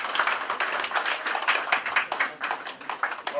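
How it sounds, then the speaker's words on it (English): A small audience claps for panelists at a book launch and review, sparse, uneven hand claps with distinct individual slaps rather than a dense roar, fairly close and brief. "Please, let's give them a hand of applause."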